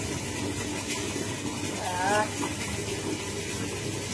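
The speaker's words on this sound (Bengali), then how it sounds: "পাম্পটা সবে সবে চালিয়েছি বলে জলটা ঠান্ডা ঠান্ডা, আর এটাকে কল চলছে বলে মনে এত আওয়াজ হচ্ছে।" Cold water runs from a tap fed by a freshly started pump, a steady close rushing gush with a slight surge midway, and no voices over it.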